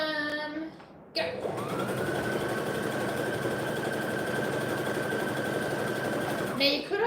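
A sewing machine stitches a tutu seam in one steady, close mechanical whir of rapid stitching lasting several seconds, with brief stops before and after and a voice heard briefly at the start.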